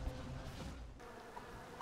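A swarm of bees buzzes in the SMITE video game during a Ganesha match, a faint, steady droning hum that continues without pause.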